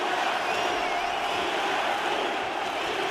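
A large arena crowd in the UFC 4 video game roars and cheers in a steady, sustained wash after round two of a fight between Israel Adesanya and Georges St-Pierre, moderately loud with no break.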